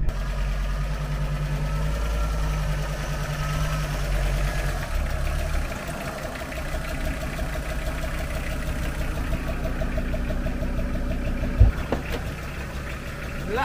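A 2.4-litre camper van engine idling on manual choke, a loud steady rumble with a fast regular mechanical pulse. The idle tone drops noticeably partway through and carries on evenly, with a brief clunk near the end.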